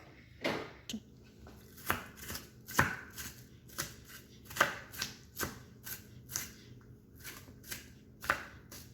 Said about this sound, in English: I'm about to cut my seasoning up